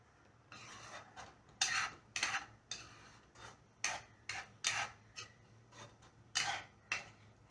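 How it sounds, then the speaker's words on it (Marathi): A spoon scrapes and knocks rhythmically against a pan while palak pasta sauce with black pepper is mixed, giving repeated close, moderately quiet strokes with no voices. "आता आपण ह्याला मिक्स करून घेऊया."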